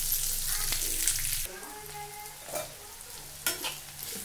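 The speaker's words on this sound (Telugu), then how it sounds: "ఆనియన్ వేయించుకుందాం ఇప్పుడు." Chopped onions fry in a pan for chicken liver curry. A loud, dense sizzle opens the clip, then it drops to a softer hiss with a few spoon-stirring scrapes.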